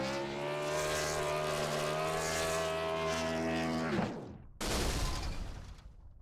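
A race car engine in a sim racing game at Chicagoland, wailing at high revs as a loud, steady harmonic drone for about four seconds, then dropping away briefly before roaring back and fading.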